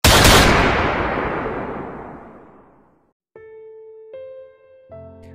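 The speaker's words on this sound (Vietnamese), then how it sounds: "Súng thực sự đã nổ, nhưng không phải là súng của Prince." One loud, booming gunshot rings out and decays slowly over a few seconds, followed by silence and then a sustained tonal hum.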